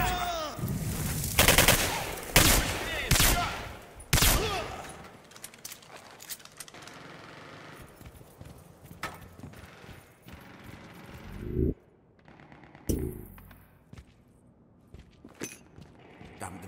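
Bursts of gunfire in the shooter game Singularity, with several loud rapid volleys early on, then scattered sharper shots and mechanical clatter, some spaced by quieter gaps.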